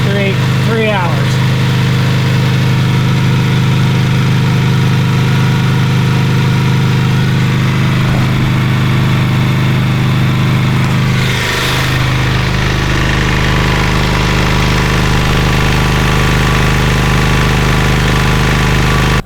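A Kubota diesel generator engine runs at a steady idle, a loud, continuous low mechanical drone with a constant hum and a brief shift in tone partway through.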